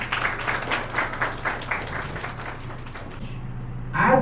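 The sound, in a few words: audience applause for students and teachers at school event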